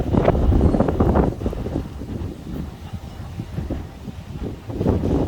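Strong coastal wind buffets the microphone continuously along the seafront at Costa Adeje, Tenerife, a loud rumbling roar that surges and eases over several seconds with no speech.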